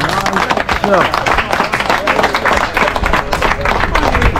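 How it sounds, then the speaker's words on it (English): A small group gives a round of applause at a gathering in Trenchtown, with brisk, close clapping and some crowd voices and chatter mixed in. "So we can run another round of applause, man."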